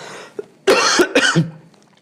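A pair of harsh coughs, close and loud, after a brief quiet moment with a small throat sound.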